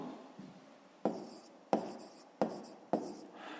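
A pen scratches on paper while a math exercise is written out by hand, in short bursts with brief pauses between strokes, close and fairly quiet.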